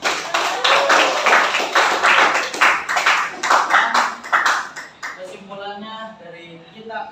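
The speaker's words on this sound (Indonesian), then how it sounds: "Oke, tepuk tangan lagi dong." A classroom audience breaks into loud, dense clapping that carries on for about five seconds before thinning out, then voices talk over the fading applause.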